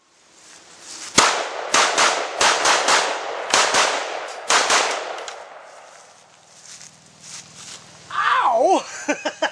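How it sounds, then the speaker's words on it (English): An AKM rifle without a flash hider fires a run of loud, sharp shots, some in quick pairs, each with a booming muzzle blast and echo, followed by quieter handling noise. "The muzzle blast. It was without a flash hider. That was actually quite cool. But I tell you one thing, it's got a boom to it."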